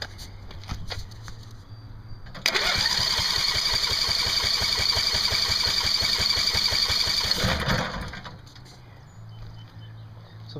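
Electric starter cranks a Coleman Powermate 5000 watt generator for several seconds with a rapid whirring churn, close and loud, then cuts off abruptly as the engine fails to keep running, leaving a low hum.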